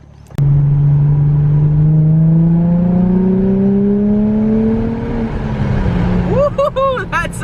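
A welded-differential drift car's engine revs up and holds in a long rising drone while a thin exhaust whistle rides above it, then the revs drop and a voice cuts in near the end.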